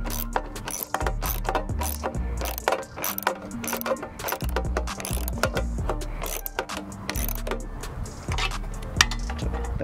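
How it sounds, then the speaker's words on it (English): A ratchet tightens a hose clamp on a K&N 77-series cold air intake being fitted to a V6 2020 Jeep Grand Cherokee Limited X, giving close, busy metallic clicks and ratcheting bursts mixed with clinking handling noises, with no talking. "I'm just tightening this down on this side at least."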